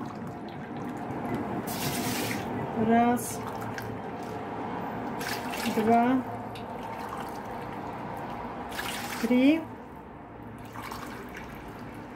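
Hot water is poured from a glass onto raw quince to make a jam syrup, in three separate pours about three seconds apart with a counting voice over them, against a quiet kitchen background.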